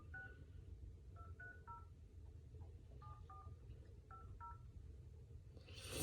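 A series of short touch-tone beeps sound in small groups, like a number being dialed on a phone, over a steady low background hum.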